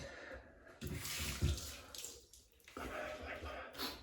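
A wet shave with a 1961 Gillette Fat Boy razor and lavender shaving soap, rinsed under a running tap. The water hisses close and steady in long stretches, broken by a brief pause and a low knock.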